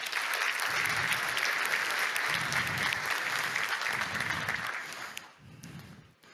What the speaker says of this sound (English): give a very warm hands of applause to the great organizers behind this